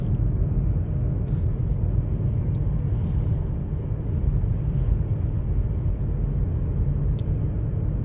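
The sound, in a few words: car driving through city streets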